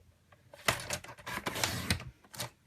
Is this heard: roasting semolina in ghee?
no